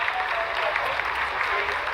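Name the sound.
applause at Chandrayaan-3 landing broadcast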